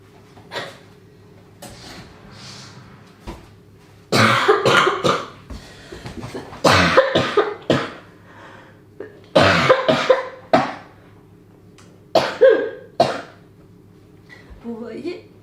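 Several bursts of harsh coughing come in fits, close to the listener, separated by quiet breathing and a low background hum, in a kitchen during yogurt-making.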